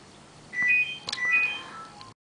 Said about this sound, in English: that was my phone going off, so I had to answer it.